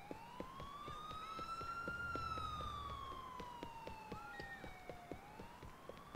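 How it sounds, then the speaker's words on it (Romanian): A wailing ambulance siren in the video game GTA IV rises and falls slowly, steady and somewhat distant, with faint clicks and engine hum beneath. "Ambulanță."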